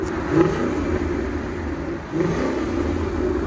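A 2016 Ford Mustang GT 5.0L V8 with Flowmaster X-Pipe and X-Force valved exhaust, valves closed, idles with a deep muffled burble in cold weather, with two short blips of revving.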